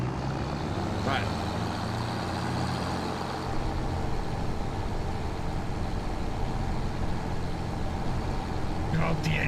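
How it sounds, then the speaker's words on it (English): Mercedes-Benz truck engine in the Farming Simulator 25 video game, a steady, throaty low rumble running continuously throughout, with talk over it. "God, the engine on this sounds nice."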